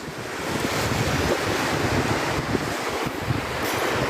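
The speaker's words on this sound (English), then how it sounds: "Decided to go to the beach." Ocean surf rolls onto a beach in steady, loud washes, with wind buffeting the microphone throughout and no voices.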